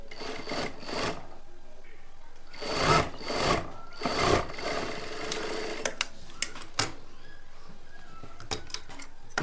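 A sewing machine stitches long straight stitches along a folded hook strip on a simple blouse, running in several short whirring bursts with pauses and small clicks between them.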